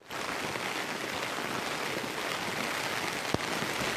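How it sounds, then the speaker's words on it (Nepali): Rain falls steadily outdoors on a rural road beside fields, a dense, even hiss of drops that continues for the whole four seconds with no break and no talking. "ए खतरा पानी पर्छ"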